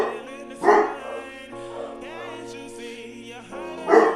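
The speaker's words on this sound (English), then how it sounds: "I really hope the dogs will stop barking, please" Dogs bark in loud, close bursts at the start and end, with whining yips in between, heard during a Fall Guys game stream over a low background hum.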